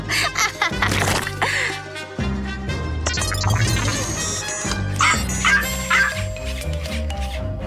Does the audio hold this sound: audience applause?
no